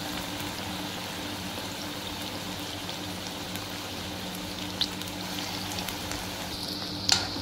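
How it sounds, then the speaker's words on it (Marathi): Fenugreek fritters (methi bhaji) deep-frying in hot oil, a steady dense sizzle and bubbling that runs evenly throughout, with a couple of small clicks from the pan near the end and no talking. "आधी तळून घेऊया, चांगल्या खरपूस तळायच्या"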